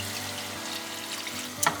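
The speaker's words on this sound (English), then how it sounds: "And next we're just gonna come in and pour in that milk mixture." Milk mixture pours into a pan of cooked flour roux for an Alfredo sauce, giving a steady watery rush and sizzle throughout with a brief clink near the end, no talking.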